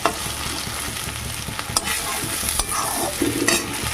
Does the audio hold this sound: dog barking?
no